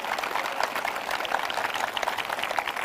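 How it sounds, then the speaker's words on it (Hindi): A crowd at a church service claps continuously, a dense, even patter of many hands that stays steady and fairly loud, with no voices on top. "बजाओ ताली, करो पिटाई।"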